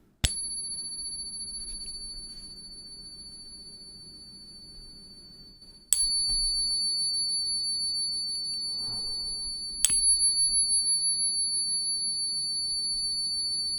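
A silver coin is struck three times, and each tap gives a sharp click followed by a clear, high, sustained ring that slowly fades. No one speaks.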